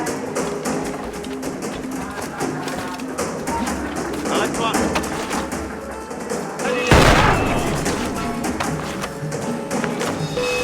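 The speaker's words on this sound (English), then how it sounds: "it's best to use the blunderbuss, Adewale's powerful new weapon. It can easily kill tougher guards, such as this jailer." Blunderbuss gunfire in Assassin's Creed 4 (Freedom Cry): one loud boom of a shot rises above ongoing game battle noise, with clatter, scattered shots and a voice talking throughout.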